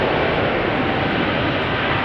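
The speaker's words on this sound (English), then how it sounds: "Next up, Emirates, flight 146 to Dubai, 777-300" A steady, loud roar of an Emirates Boeing 777-300 jet airliner at Amsterdam Schiphol Airport, a broadband engine rush that holds even with no breaks.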